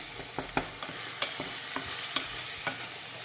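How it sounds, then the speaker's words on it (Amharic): Tomatoes sizzle in a pan with spices, a continuous soft frying hiss punctuated by regular scraping clicks of a utensil stirring, close but fairly quiet, no talking. "ቲማቲሞችን ጨመርን። በደንብ ጥብስ ሲል እናደርጋለን።"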